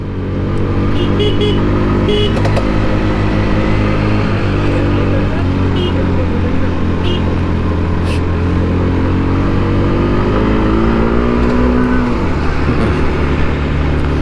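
A Honda motorcycle engine labors up the steep slope of Dim Pahar hill, giving a loud, steady drone that runs through the whole stretch while voices talk over it.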